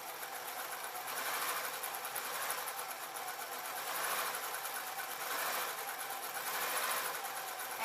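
A sewing machine runs continuously while stitching elastic into a bear hat, giving a steady, close, rapid mechanical hum that gently swells and eases a few times with no pauses or talk.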